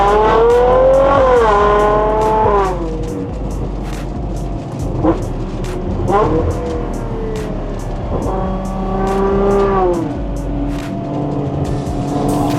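Close by, a Ferrari Purosangue fitted with a Novitec exhaust revs hard with the valves open, several rising and falling engine sweeps with a deep, loud note over a constant low rumble.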